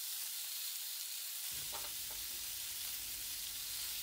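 Minced pork hitting a hot pan with garlic, a steady loud sizzle and crackle filling the background, with a low thump as the meat goes in and faint stirring.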